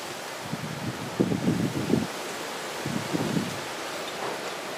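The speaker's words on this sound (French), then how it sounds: "À cause du vent et des branches qui s'agitent en arrière-plan." Gusty tramontane wind shakes tree branches outdoors, coming in two strong low rumbling bursts that buffet the microphone over a steady hiss, with no voices.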